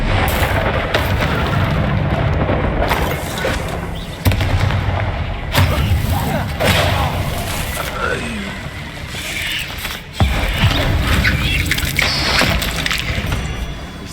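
Bombarda blasting spell going off in the game Hogwarts Legacy, a string of loud booming explosions over a dense bed of game music and noise, with a voice calling out and game characters chatting.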